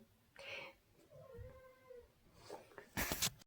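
A cat meows a few times, with short drawn-out cries at close range, followed by a brief louder burst of noise.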